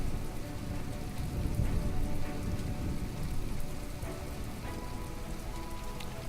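Steady rain in the video game From The Depths patters continuously at a soft, even level with no talk over it.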